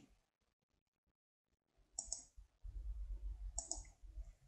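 A computer mouse gives a few sharp, close clicks after a near-silent start, and a soft low rumble follows.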